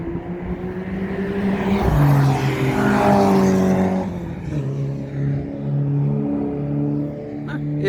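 Race cars at the Auto24 ring track, with engines revving and droning as cars pass nearby, one rising and fading pass followed by steadier engine tones from cars further along the circuit.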